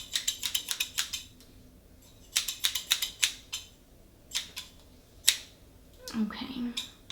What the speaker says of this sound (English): I'm gonna first go in with the scissors, okay? I'm gonna snip and snip.